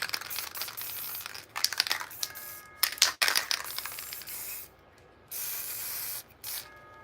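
Spray paint hisses from an aerosol can in short bursts and longer sustained sprays, with brief pauses and a few small clicks and rattles in between, close and fairly loud.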